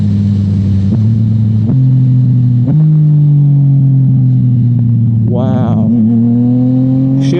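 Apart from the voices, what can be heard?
Yamaha FZ-09 motorcycle accelerating hard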